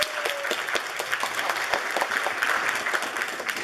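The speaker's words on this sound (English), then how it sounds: "applause is going to be for everybody" A live audience gives a short burst of brisk clapping, dense and even for a few seconds at a moderate level.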